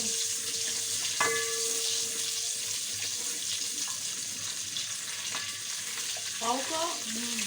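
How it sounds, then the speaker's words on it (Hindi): Sliced onion frying in about a cup of hot oil for pav bhaji: a steady, close sizzling hiss runs throughout, with a couple of short tonal clinks and a brief rising squeak near the end. No talking. "ये मैंने एक प्याज डाल दी, प्याज को थोड़ी देर भूनूंगी"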